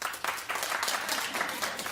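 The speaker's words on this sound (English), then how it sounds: "Clap." A studio audience claps together in response to a show-of-hands style poll on a daytime talk show, a dense, steady burst of applause lasting about two seconds with some voices mixed in.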